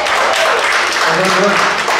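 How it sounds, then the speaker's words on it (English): A dense wash of crowd applause and cheering for a musician at a live music night, loud and continuous throughout, with voices mixed into the clapping. "can I have a big round of applause?"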